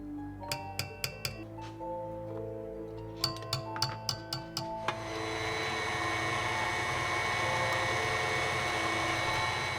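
Cookie dough for cinnamon raisin snap cookies with vanilla, cinnamon, baking soda, cream of tartar and salt added. A few light clinks come first, then an electric mixer starts and runs with a steady, close whirring drone.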